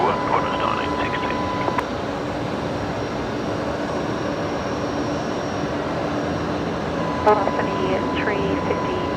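At Brisbane Airport, an airliner's engines produce a steady, loud, droning roar throughout, while air traffic control radio chatter crackles faintly in the background.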